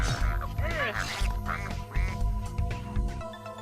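A duck quacks repeatedly in short nasal bursts, fairly close, with a low background hum running underneath.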